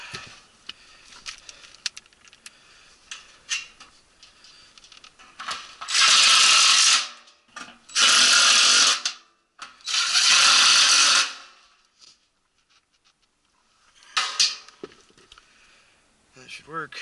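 A part being screwed on with a ratchet during a repair of a new, leaking heat pump: several loud bursts of a power tool in a row, separated by pauses, with someone speaking around them.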